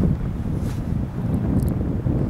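Wind gusting across an open fishing spot on ice or water, a dense low roar buffeting the microphone steadily throughout, loud and close with no talk.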